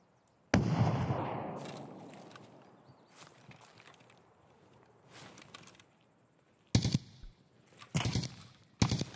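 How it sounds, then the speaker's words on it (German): Gunfire in Escape From Tarkov on Shoreline: a loud close burst of automatic fire, then a quieter rattling stretch, followed by several sharp separate bursts near the end, with no talk. "Nö, er hat geschossen."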